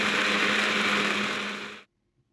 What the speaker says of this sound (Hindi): अब हम इसको ब्लेंडर जग में डाल के इसका पेस्ट तैयार कर लेंगे।